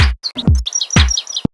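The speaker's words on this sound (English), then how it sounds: "Now that we kind of have a little bird one shot" A bird call sample chopped into short pieces for a house track: several quick, loud, high chirps and tweets in a choppy, stuttering sequence with punchy low thumps, ending abruptly.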